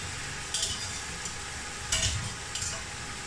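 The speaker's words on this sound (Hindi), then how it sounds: "अब चनों को भी 1 से 2 मिनट के लिए भुनेंगे मसालों के अंदर।" Boiled chickpeas roasting in spices in a pan for chana pulao, a soft continuous sizzle with about three scraping stirs. Close and moderately quiet, with no talking.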